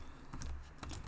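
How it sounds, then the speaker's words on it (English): Keys clacking on a computer keyboard in short bursts while a message is typed into a game-editing tool, close and fairly quiet, with no talking. "I'm going to type in a message that says,"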